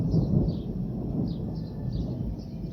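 Low distant thunder rumbles steadily under a violent supercell thunderstorm near Bordeaux in Gironde, with faint repeating bird chirps riding above the dull roar, moderately quiet and without speech.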